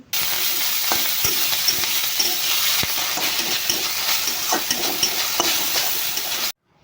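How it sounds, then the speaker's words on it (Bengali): Cauliflower florets frying in mustard oil with salt and turmeric, a steady close sizzle with scattered pops and light clicks of stirring, running evenly before stopping abruptly; no voices. "সর্ষে হলে নুন আর হলুদ দিয়ে হাফটা ফুল আমি ভাজা করে নিচ্ছি"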